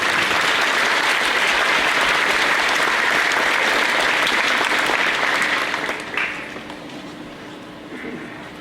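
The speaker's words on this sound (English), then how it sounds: "Let's give these friends a round of applause." An audience at a 5th grade graduation ceremony claps steadily and loudly for several seconds after names are read. The applause tapers off toward the end and leaves a quieter room.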